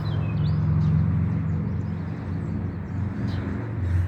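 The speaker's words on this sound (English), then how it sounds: "But you can hear the birds." Birds singing in early morning: a few faint chirps and short calls rise over a low, steady rumble like distant traffic or aircraft, with no talking.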